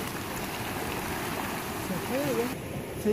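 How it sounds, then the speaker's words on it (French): Boiling hot spring water near 98 degrees bubbles and churns at New Zealand's largest boiling spring, a steady close wash of gurgling water with a voice speaking briefly over it. "Et tu vois quand ça bouillonne."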